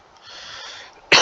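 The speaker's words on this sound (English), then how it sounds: "Maybe that's the reason I got this cough again." A single sharp cough bursts out near the end, loud and close, after a stretch of quiet breathy background, following a drink of cold electrolyte water.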